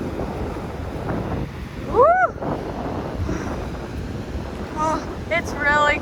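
Cold wind buffets the microphone on an overcast New Zealand coast at Piha Beach, a steady roar with surf behind it, while a few whoops and gull-like calls rise briefly over the noise.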